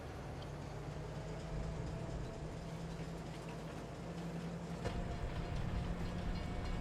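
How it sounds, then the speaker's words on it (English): A train ride in Farming Simulator 22 on the Canadian prairie map, a steady low rumble with faint rail clatter that swells slightly near the end, no talk over it. "We're in the train."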